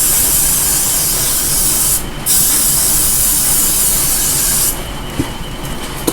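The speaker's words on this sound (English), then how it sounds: "And a little bit of wet spray." Steady hissing bursts of water spray misted onto a wig during smoothing, two long sprays separated by a brief pause, close and loud with no talk.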